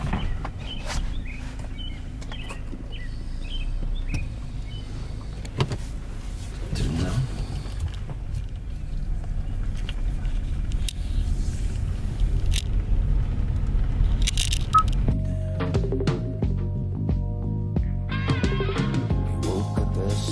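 Riding in a car on the road: a steady low engine and road rumble with occasional knocks and bumps. Music comes in over the drone in the last few seconds.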